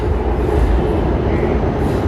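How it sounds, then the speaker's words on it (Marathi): A Pune metro train near the Deccan Gymkhana station rumbles loud and close, a continuous heavy low roar with no pauses. "हे बघा ही मेट्रो आहे"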